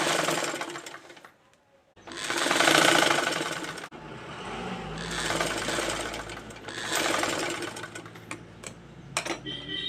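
A sewing machine stitches a garment's shoulder seam in three running bursts of rapid mechanical whirring, separated by brief pauses, close and fairly loud.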